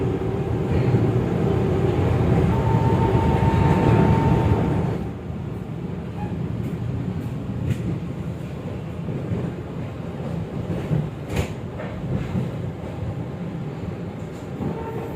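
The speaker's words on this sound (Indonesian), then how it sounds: "kereta api Jayakarta diberangkatkan kembali dari stasiun Mojokerto" A Jayakarta economy premium passenger train pulls out of Mojokerto station, a loud, steady rolling rumble that is heaviest for the first few seconds, then settles into a lower continuous drone with scattered clicks and knocks. No talk.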